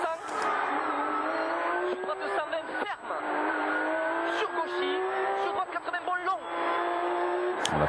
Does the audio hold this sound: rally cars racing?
yes